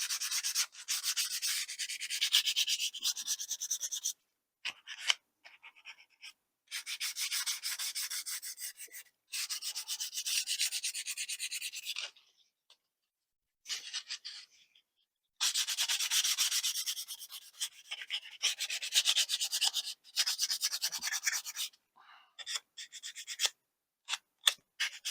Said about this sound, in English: And let's get sanding. We're going to get rid of some of that old glue, some of it anyway.